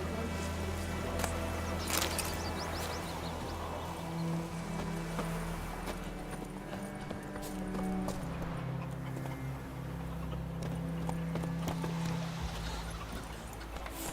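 Hooves of the horse Roach being ridden in The Witcher 3 video game, a steady rhythmic clip-clop running throughout amid ambient game sounds, with no talking.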